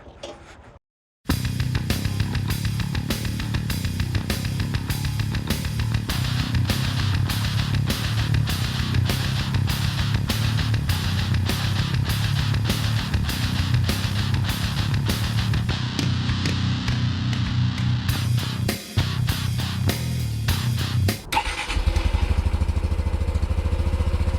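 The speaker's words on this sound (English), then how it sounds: "So we're going to get on this little bike and go to climb this hill." A Honda Trail 125 motorcycle climbs a hill with a steady, close buzzing single-cylinder engine note under load, continuing unbroken before a brief dip and a change in tone near the end.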